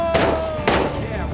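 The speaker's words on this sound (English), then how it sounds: "Stop shooting!" Gunfire in the video game Days Gone, two sharp loud shots about half a second apart cutting through a busy game soundscape with a voice underneath.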